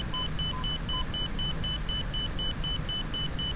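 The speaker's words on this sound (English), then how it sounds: "There's the marker. You know, beeping at us." A marker beacon in the DCS flight simulator cockpit beeps steadily in short, evenly spaced pulses during the landing approach, clear over a constant engine and air rumble, with no talking.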